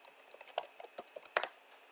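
Quick, light clicking of keys on a computer keyboard, a fast irregular patter of taps heard close and fairly quiet with no talking.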